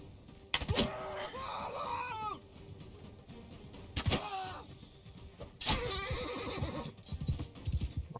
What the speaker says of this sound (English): That's my poor horse getting damaged.